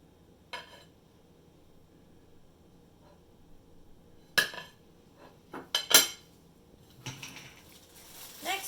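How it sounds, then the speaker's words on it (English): A knife spreading peanut butter on a slice of bread, heard as quiet, sparse scrapes and light clinks of the blade against a container, close and separated by near silence. "Spread the peanut butter on one piece of bread."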